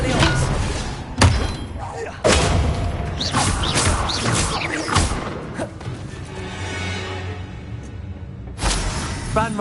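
The Expelliarmus spell in Hogwarts Legacy is cast in a burst of loud, heavy thuds and crashing impacts that repeat through a busy battle.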